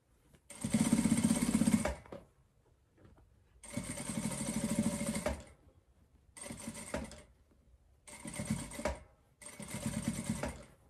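A sewing machine stitches white thread around a fleece hood in five bursts, two of them longer, with short pauses between them as the fabric is adjusted, close and loud.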